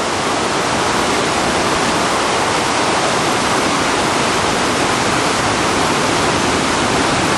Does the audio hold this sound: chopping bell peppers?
no